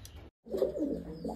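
A soft, low coo from a Madras pigeon rolls on for about a second after a short silence, close by but quiet.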